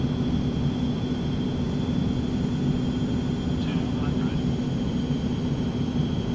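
An Eclipse 550 business jet on final approach in the flight simulator X-Plane 11, a steady engine drone with a faint constant whine above it, one short chirp partway through, and no speech during the sound.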